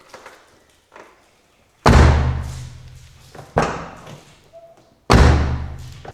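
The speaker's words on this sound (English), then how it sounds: "And then what you do is you close the door." A Mazda Miata door fitted with Delrin bushings is shut three times, each a solid, close slam with a deep thud and a short ringing decay, with quiet handling clicks before the first.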